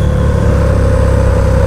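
Loud, steady engine drone from an older KTM Super Duke motorcycle fitted with a heavy aftermarket exhaust, running continuously and close by in road traffic without a break.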